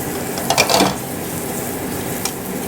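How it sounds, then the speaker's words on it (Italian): Guanciale sizzling in its own rendered fat in a pan in a Roman restaurant kitchen, a steady frying hiss with a brief burst of stirring and utensil scraping near the start and a soft clink later. "lasciamo soffriggere, lo separiamo per bene"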